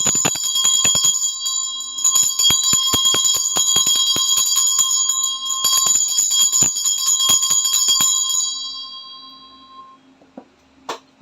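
A bell is struck repeatedly, giving a bright metallic ringing with a lingering tone. The strikes come in a dense, uneven flurry for about eight seconds, then the ringing fades out with a couple of last isolated taps.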